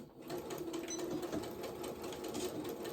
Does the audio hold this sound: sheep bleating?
no